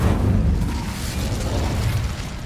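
A spell cast in the Hogwarts Legacy video game: a rumbling fiery whoosh with dense low-end roar, sustained and loud for over two seconds without a break.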